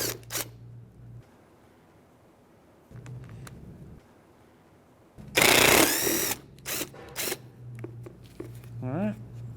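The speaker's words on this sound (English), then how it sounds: "We're going to use the 10mm socket." A ratchet with a 10mm socket turns out the license plate bracket bolts on the front bumper of a 2011-2017 Honda Odyssey, with short bursts of close clicking broken by pauses and a person talking.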